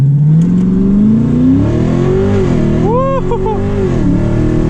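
A cammed Dodge Challenger Scat Pack launches with traction control off, its engine pitch climbing hard through a long pull before lifting and blipping in rough, lopey revs, loud and close from inside the car.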